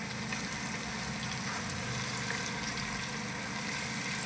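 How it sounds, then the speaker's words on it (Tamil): Masala for chicken biryani sautés in a pan with a steady, continuous close-up sizzle and hiss that stays at an even level, with no talking. "எல்லாம் சேர்ந்து வதங்கி வரட்டும்"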